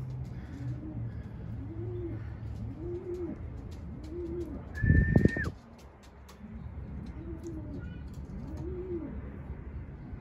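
A racing pigeon coos repeatedly in a steady, rhythmic series of soft low calls, close by, with a brief louder clatter of handling or wing noise midway through.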